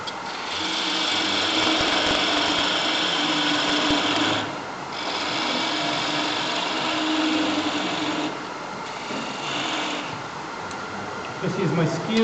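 Skew chisel cutting wood on a lathe at a woodturners' meeting, a steady whirring hiss of the spinning workpiece and shaving cut, briefly easing and resuming several times, with someone talking over it.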